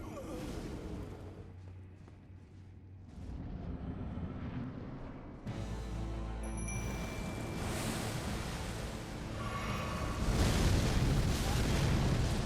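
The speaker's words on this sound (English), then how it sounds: "That explosion, though." A massive explosion rumbles during the Messmer boss fight in Elden Ring: a sustained roaring, fiery blast with a deep low rumble that swells and thickens toward the end, loud and continuous.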